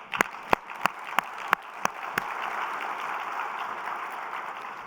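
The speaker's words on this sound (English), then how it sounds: "So just by a round of applause, let's award her doctorate." Applause from a keynote audience at a GEOINT 2018 symposium, marking an honorary doctorate: a few sharp, loud claps open it, then a steady, dense wash of clapping fills the hall.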